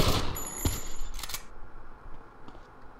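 Bursts of enemy gunfire in GTA Vice City, a loud burst up front then shorter shots fading into a steady game background, with brief clicky high tones mixed in.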